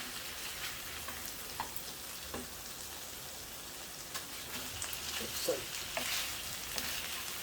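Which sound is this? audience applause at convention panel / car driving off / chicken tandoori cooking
chicken tandoori cooking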